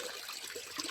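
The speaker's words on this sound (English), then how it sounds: "shake up the water" Water in a garden fish pond being stirred and shaken up, a brief, faint close-up splashing and trickling.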